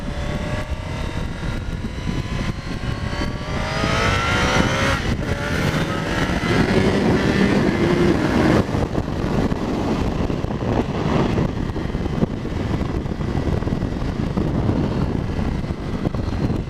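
A 2019 Suzuki GSX-R1000R sportbike being ridden, its engine note rising and falling with revs over steady wind roar, continuous and loud throughout.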